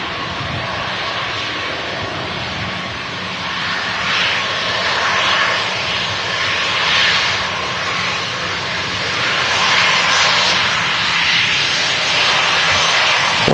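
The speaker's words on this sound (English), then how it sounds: "it looks like the Dreamliner is going to enter the active runway here" A Boeing Dreamliner airliner taxiing onto the active runway at Manchester Airport, a steady loud jet engine roar with a hissing whine that swells and fades gently throughout, with no voices.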